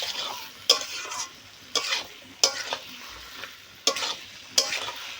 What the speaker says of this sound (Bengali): এইভাবে ভালো করে কষাতে হবে, তাহলে খেতেও ভালো লাগবে।